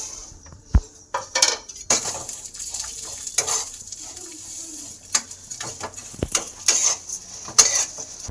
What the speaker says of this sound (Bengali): এবার কড়াতে আমি ঘি দিয়ে দিচ্ছি এখানে। এবার আমি এর মধ্যে সিমুইটা দিয়ে দেবো।